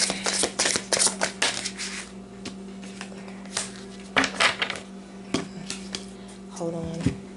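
Tarot cards shuffled by hand in quick, crisp riffling bursts that repeat several times at close range, with short pauses between shuffles and soft room noise underneath.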